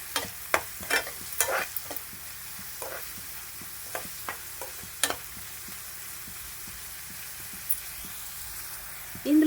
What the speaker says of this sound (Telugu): ముందుగా కట్ చేసుకున్న ఉల్లిపాయలు ఇలా అయితే ఒకసారి కలుపుకోవాలి